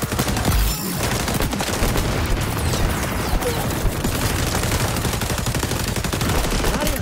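Dense, sustained automatic gunfire and explosive bursts from an XDefiant multiplayer match with the zone under assault, loud and continuous throughout with scattered booms.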